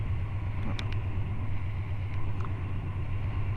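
A custom Triumph Bonneville Bobber motorcycle pulls through the gears with a continuous low engine drone. It comes across as moderately loud and steady, with a faint wind-like hiss over it.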